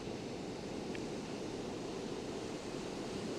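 Ocean waves breaking on a beach make a steady, full roar of surf with no pauses and no voices over it.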